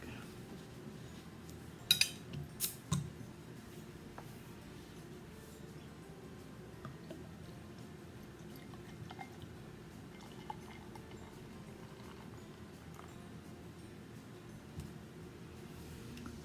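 A bottle of Bernard Dark Lager, a 5% Czech dark beer, is opened with a few sharp glass clinks and clicks close by, followed by a quiet, steady background as it pours.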